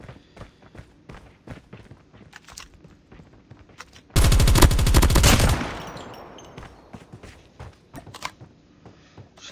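In a video game, a long, rapid burst of light machine gun fire erupts loud and close, then trails off into echoing decay, framed by quieter footsteps and movement before and after.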